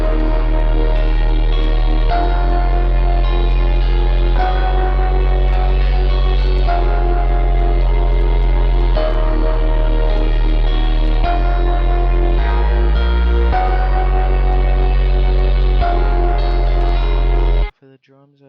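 A loud synth melody over a deep sub bass that follows the root notes drives a Memphis phonk beat, with sustained chords shifting every couple of seconds before cutting off, after which a voice briefly speaks.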